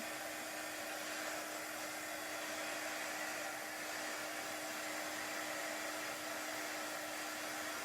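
A hair dryer blows steadily and loudly for the whole stretch, drying chalk paste on a craft surface, its even airflow roar carrying a constant motor hum with no voices.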